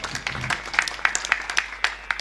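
Audience clapping at a Marathi kirtan, a devotional gathering: a run of separate sharp claps about every quarter second, fairly close, from a small group.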